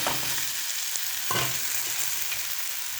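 Onions sautéing in a pan for a spicy non-veg dish, continuous hissing sizzle broken by a few sharp spatula scrapes and clinks, close and loud.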